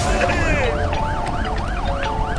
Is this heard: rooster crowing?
no